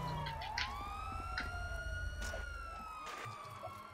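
A police car siren wails in the video game GTA V, rising and falling sweeps moving across the scene over engine noise and background game sound.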